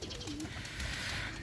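Pigeons in a loft on a bright spell after days of rain give a short, soft, low coo close by, heard alone without speech.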